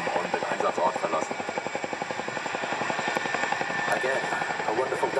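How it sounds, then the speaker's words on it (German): Boeing Chinook tandem-rotor helicopter at the ILA Berlin air show, demonstrating external load handling, makes a loud, steady, rapid rotor thump that continues throughout while a voice talks over it. "there you can hear the very famous noise that gives the Chinook its name"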